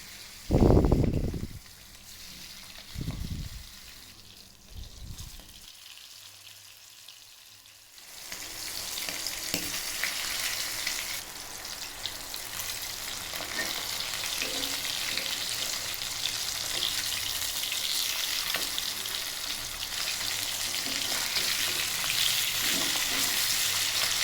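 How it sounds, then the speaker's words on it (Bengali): After a few thuds and a short pause, steady oil sizzling sets in, loud and continuous, as hilsa fish fries in a pan. "এখন আমি চুলাটা অন করে দিয়ে মাছ ভেজে নিচ্ছি"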